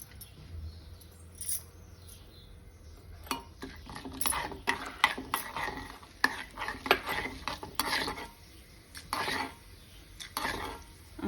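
Chana dal and urad dal tempering spices with turmeric frying in a pan, a steady soft sizzle broken by a run of scraping stirs and clinks of a spoon against the metal, fairly close and moderately quiet.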